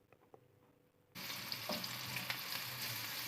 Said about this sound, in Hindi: 3 टेबलस्पून मैंने ऑयल डाला है। इसमें हम प्याज को ब्राउन कर लेंगे।